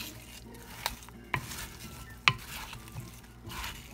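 Sliced apples coated in cinnamon and sauce are stirred in a bowl, giving soft wet scraping with a few sharp clicks of the utensil against the side, quiet and close with no voices.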